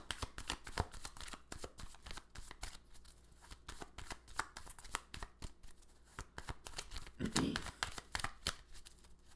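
Tarot cards are shuffled repeatedly in quick riffling bursts, close and crisp, with soft handling noise between them.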